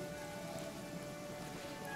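Steady rain falling in the fantasy role-playing game Pathfinder Kingmaker, a soft, even hiss with a faint low rumble and no voices.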